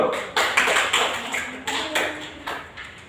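A small classroom audience at a teaching-practice session claps in scattered, uneven bursts, with sharp separate hand strikes rising and fading across a few seconds.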